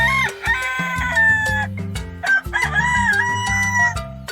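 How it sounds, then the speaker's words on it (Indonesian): A loud, clear rooster crows repeatedly, long drawn-out cock-a-doodle-doo calls with a clucking, strident tone, close to the listener with nothing else competing. "Ayam jantan memiliki suara yang nyaring, biasanya banyak diikutkan dalam kontes berkokok."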